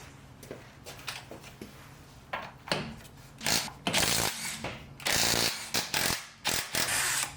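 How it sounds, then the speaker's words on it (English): Ratcheting wrench clicks in short bursts while tightening the ride height adjustment on a Porsche 944's rear suspension, close and fairly loud, with some louder metallic rattles and clatter toward the end and no talk. "Once we tighten down the ride height adjustment with my least favorite type of wrench ever,"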